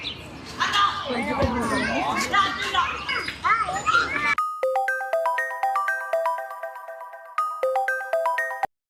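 A mobile phone ringtone plays a repeating electronic melody for an incoming call, starting abruptly after a stretch of busy background chatter from children and voices, then ringing steadily and loud before cutting off.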